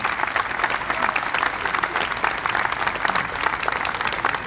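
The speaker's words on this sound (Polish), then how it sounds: "Brawa dla naszych gości." A festival audience in Poznań applauds its guests at an operetta premiere, dense sustained clapping from many hands filling the hall evenly and loudly, with no talk over it.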